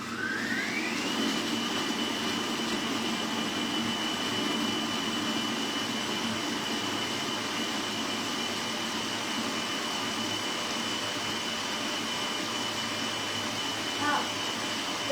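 Kitchen food processor spinning at speed 12, blending strawberries: a steady, loud whirring motor drone with a rising whine at the start, continuous throughout with a faint voice underneath.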